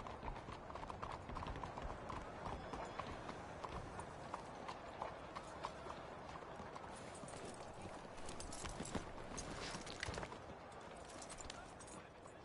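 Horse hooves clip-clop at a steady walking rhythm in the video game Red Dead Redemption 2, a continuous close hoofbeat pattern that runs through the whole stretch.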